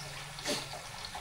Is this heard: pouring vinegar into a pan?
yes